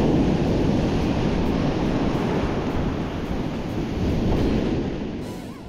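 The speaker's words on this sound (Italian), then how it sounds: "Mare a 3000 e vento fortissimo, come da previsione." Rough sea surf from a storm roars continuously at night while very strong wind buffets the microphone on the Italian coast, a loud, dense rumble that eases slightly near the end.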